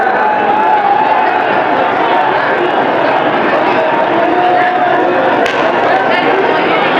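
A large outdoor crowd gathered around the convoy of chief minister Suhail Afridi, a dense continuous murmur of many voices near and steady throughout, with a brief sharper burst of noise late on.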